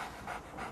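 A dog panting in a radio play: quick, soft, rhythmic breaths in a few pulses, close and faint, with no talk.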